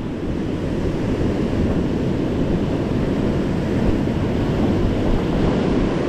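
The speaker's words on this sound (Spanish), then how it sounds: "miren, vienen como 3 o 4 olas grandes y después se calma así" Large ocean waves break and roll onto a beach in southern Chile, a loud, continuous roaring surf wash with steady wind buffeting the microphone and no voices.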